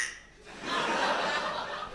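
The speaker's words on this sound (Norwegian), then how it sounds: "En guero." A guiro scraped during a Norwegian Opera gala performance, a steady rasping, ridged scrape that begins after a short quiet moment and continues fairly loudly to the end.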